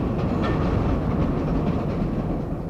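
A Chicago L elevated train runs along its rails with a continuous loud, low rumble and a faint clatter of wheels, steady from start to finish with no voices.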